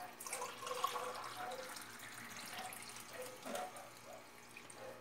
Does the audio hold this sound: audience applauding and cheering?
no